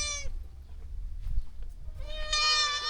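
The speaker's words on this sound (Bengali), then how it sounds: "গবাদি পশুগুলো, বিশেষ করে ছাগল গরু, ঘোরাফেরা করছে উঠান জুড়ে" Goats bleat twice, a wavering cry at the start and a longer one near the end, with quiet rustling and low thumps in between.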